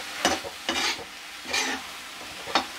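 A spoon stirs grated beetroot with turmeric and salt in a pan for beetroot thoran: four separate scraping, shuffling strokes spaced unevenly over a soft background sizzle, close by, with no talking.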